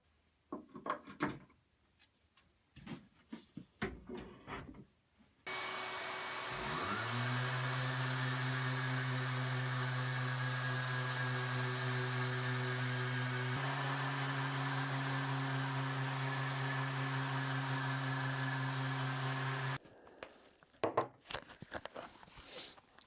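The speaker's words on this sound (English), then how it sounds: "I'm going to get out my sander and 120 grit sandpaper" An electric sander with 120 grit sandpaper smoothing a pine strip, spinning up to a steady loud buzzing drone that shifts pitch midway, bracketed by handling knocks and scrapes before and after.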